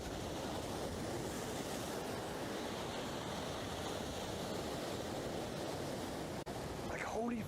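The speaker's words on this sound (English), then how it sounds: "Look at these waves." Continuous broad wash of ocean waves breaking on the shore, a loud steady surf roar throughout with wind buffeting the microphone.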